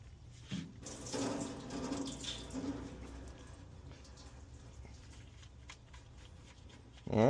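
Engine oil draining from a 5.3L engine after the filter comes off: a steady liquid stream splashing into a pan, with a denser gush early on and a louder burst at the end.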